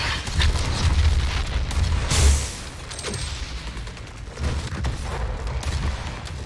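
Heavy blasts and rumbling booms from the video game DOOM rolling one after another, loud and close, with a sharp burst near the middle.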